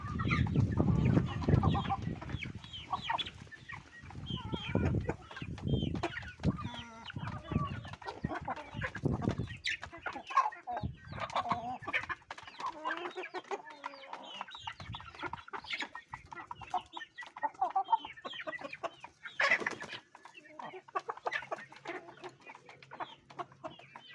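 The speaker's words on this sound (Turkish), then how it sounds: "tavuklarımız burada" Chickens cluck and murmur steadily for the whole stretch, several birds close by, with scattered sharper squawks and rustling in between.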